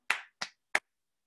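Three sharp hand claps in quick succession, close and distinct with brief decays, tapping out a short rhythm in a quiet room.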